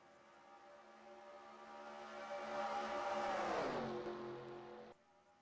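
Stock race cars roaring around Talladega in a racing game, a swelling engine drone that climbs to a peak and then sweeps down in pitch as the pack passes, fairly faint and ending abruptly.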